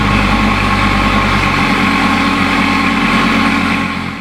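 A Dodge Viper ACR Extreme sits idling with a deep, steady rumble close by, loud and continuous with no talk, easing off slightly at the end.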